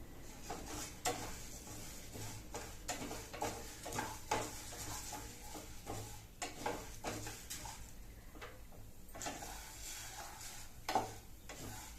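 Urad dal being dry-roasted in a pan for idli podi gives a faint, continuous scrape and rattle of stirring, with soft clinks of a spatula against the metal and no voices.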